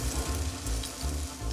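Sauerkraut with minced garlic sizzles steadily in a pan, a close, even frying hiss with soft bubbling and no talk over it.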